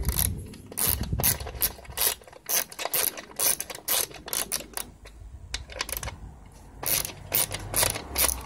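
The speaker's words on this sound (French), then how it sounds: "j'attaque le démontage de la poignée avec une douille de 10" A socket wrench with a 10 mm socket ratchets off the nuts on a welder's handle, producing bursts of rapid, close clicking separated by short pauses, loud and sharp with no talking.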